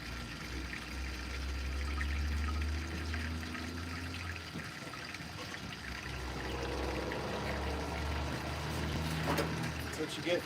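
Water pours steadily into a radiator hose in the background while a low engine hum runs underneath, with faint talk at moments.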